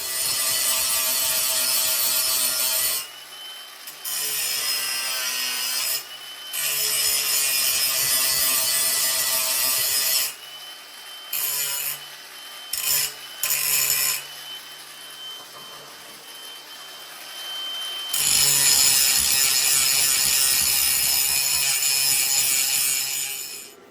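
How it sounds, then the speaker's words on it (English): A grinder smooths welds on a modified café racer motorcycle frame, running in loud bursts of harsh abrasive whine with short pauses between passes and a longer steady run near the end. "It's not going to be beautiful, but that's what grinder's for."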